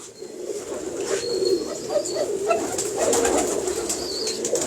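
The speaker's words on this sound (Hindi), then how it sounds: "जी ये इमामदीन कबूतर है" An Imamdeen breed pigeon coos repeatedly in a soft, rhythmic series, close by, over a steady background hiss with some faint higher chirps.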